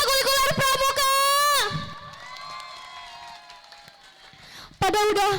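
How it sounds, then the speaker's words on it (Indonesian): A school crowd of children at a scout club extracurricular demo cheers and shouts loudly, swelling into a sustained roar that fades into a murmur, then bursts into cheering again at the end. "Sekali lagi kasih tepuk tangan dong buat ekstrakurikuler pramuka."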